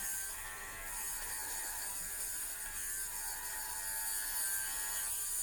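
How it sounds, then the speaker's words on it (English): An electric pill shaver, also called a bauble shaver, runs over secondhand clothing being packed to ship, giving a steady, close buzzing whir with a faint rattle that holds at an even level throughout, with no talking. "give one last little run over with the pill shaver or the bauble shaver"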